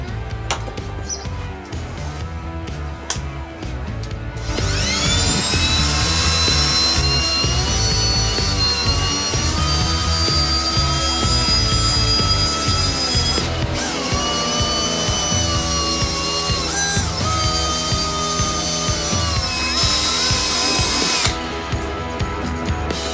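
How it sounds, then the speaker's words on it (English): A power tool drills and grinds steadily against a Husqvarna engine, scraping the old head gasket off the metal. It whines loudly and holds a continuous pitch for most of the stretch, with a brief quieter start and a dip near the end. "now it's time to get the old gasket off"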